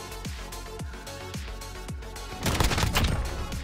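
Shotgun blasts in a Modern Warfare free-for-all match, four evenly spaced booming shots followed by a louder, denser burst of gunfire and impacts near the end.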